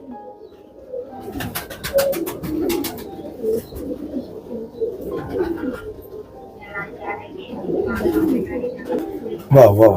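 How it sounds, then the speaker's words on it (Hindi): Firozpuri pigeons from Jaipur-Tonk cooing in a loft, soft repeated coos running through steady background chatter, with someone speaking over them and other voices nearby. "तो आप देख सकते हैं फिरोजपुरी कबूतर।"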